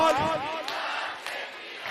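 A crowd at a political rally with Arvind Kejriwal chants a slogan against corruption while clapping with raised hands, a dense wash of voices and claps in a short burst.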